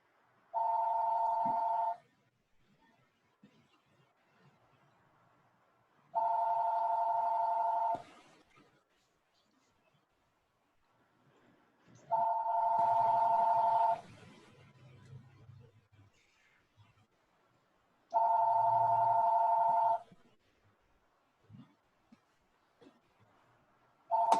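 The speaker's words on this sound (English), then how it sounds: "Someone's phone is ringing." A mobile phone rings in four evenly spaced bursts of a steady electronic tone, each about two seconds long, with quiet room noise between them.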